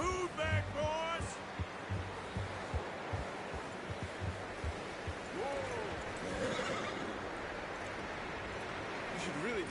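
A horse in the video game Red Dead Redemption 2 whinnies loudly near the start and again midway, with hoof clops and low ambient rumble filling the gaps.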